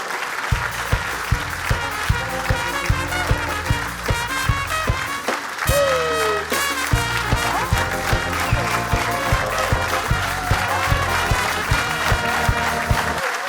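A TV studio audience applauds a new band with sustained clapping that runs throughout, mixed with the band's loud music and its regular drum beats.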